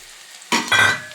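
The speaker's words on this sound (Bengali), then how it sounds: "এবার দিয়ে দেবো এর মধ্যে কেটে রাখা টমেটো।" Chopped tomato dropped into a pan of frying onion and oil, giving a sudden loud sizzle that rises and holds steady for about half a second.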